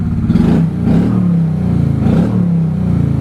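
A 1995 Honda Shadow VLX 600 motorcycle engine idles with a steady, low, throbbing rumble, loud and close, with slight surges in revs and no voices.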